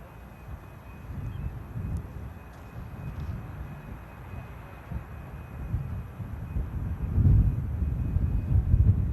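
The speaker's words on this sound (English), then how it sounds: "Getting another aircraft making light work of the touchdown here at Manchester." An aircraft touches down at Manchester Airport, a broad low roar and rumble that holds steady, then swells louder and nearer toward the end.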